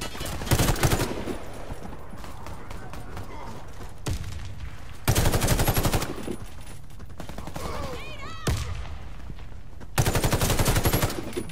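Assault rifle bursts from the Warface video game, four loud rapid-fire volleys spaced a few seconds apart, with quieter in-game sounds and faint chatter between them.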